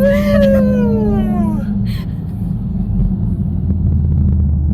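A Dodge Hellcat is launched at full throttle with little traction, its engine roaring loudly at first and then settling into a deep, rumbling drone that carries on throughout, heard close up without talk.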